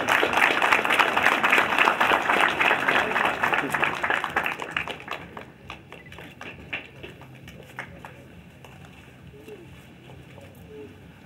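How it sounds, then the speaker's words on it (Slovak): Applause for award recipients at a volunteer fire brigade ceremony for the blessing of fire vehicles in Turzovka, a dense crowd of clapping that holds steady for about five seconds and then thins to scattered claps. "taktiež si zaslúži veľký potlesk"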